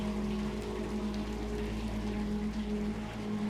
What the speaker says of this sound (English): This can withstand any acid rain, right?